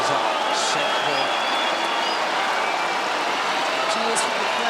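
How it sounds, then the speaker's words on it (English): A large crowd at an Australian Open quarterfinal tennis match in 2009 roars with cheers and applause, a dense, continuous wash of sound while a commentator speaks over it. "Cheers from the crowd as Dinara slams the ball into the"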